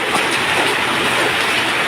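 Heavy rain falling on a garden home by a canal in Thailand, a loud, continuous broadband roar with faint pattering texture and no talking.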